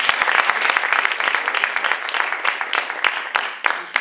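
At the closing remarks of an academic event, an audience applauds with dense, sustained clapping that stays full and even for the whole stretch, with occasional louder individual claps up close.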